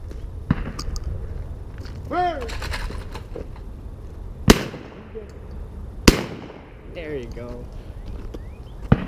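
Two sharp, loud shotgun blasts ring out a couple of seconds apart at a clay trap shoot at a country club, with people talking and calling around them outdoors.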